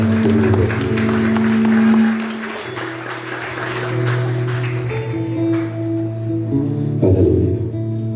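Applause rises during a church celebration service, a broad clapping wash over sustained organ or keyboard tones and a voice, fading into music toward the end.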